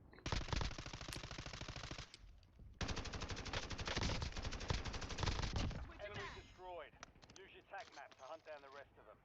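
Rapid automatic gunfire from a video game bursts loudly for about two seconds, breaks off, then resumes in a longer dense volley before giving way to players talking over fainter shots.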